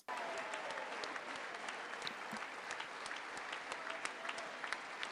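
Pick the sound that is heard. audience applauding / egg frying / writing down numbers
audience applauding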